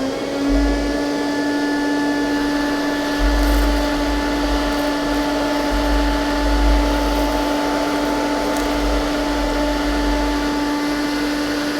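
AURA Roboclean water vacuum cleaner running steadily, a loud close whirring motor drone with a constant high whine and a low rumbling undertone, no pauses.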